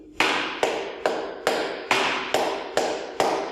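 Sharp, evenly spaced hand claps, eight in all, mark a flamenco rumba rhythm of palmas, each crisp and close with a short decaying tail, heard alone without voices or music.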